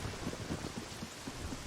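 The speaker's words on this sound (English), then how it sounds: "I love the rain and thunder sound effects from Ocarina." Rain and thunder sound effects from The Legend of Zelda: Ocarina of Time play as a steady rain hiss with low rolling thunder rumbles, moderately loud and continuous, with no voices.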